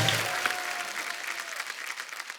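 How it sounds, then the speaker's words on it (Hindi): Studio audience at a TV comedy show gives steady, moderately loud applause that continues evenly for a couple of seconds after a guest from Rajasthan is introduced. "इनके लिए जोरदार तालियां हो जाए।"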